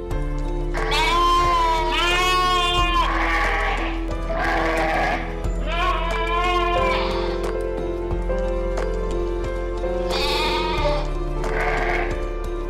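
A mother goat bleats excitedly when reunited with her kids after weeks apart, giving several loud, quavering cries in quick succession over a steady background music bed.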